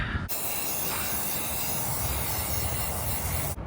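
Steady, loud hiss of an aerosol spray paint can held close, applied to a Gheenoe Classic skiff hull, one continuous burst lasting about three seconds with abrupt start and stop.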